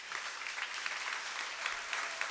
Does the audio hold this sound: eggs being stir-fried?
no